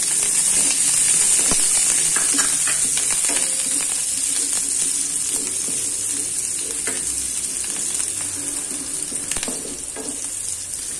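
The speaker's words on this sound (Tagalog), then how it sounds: "igisa natin ang luya at chili. Sunod natin ang bawang at sibuyas" Ginger, chili, garlic and onion sauté in a hot pan for ginataang chicken feet, a loud continuous sizzle with occasional scraping stir strokes, close and steady with no talk.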